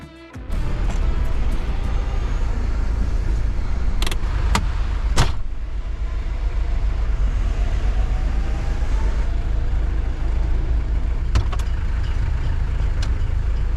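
A Land Rover Defender cruises along the road, a loud, steady low rumble of engine and road noise inside the cabin, with a few brief clicks and knocks.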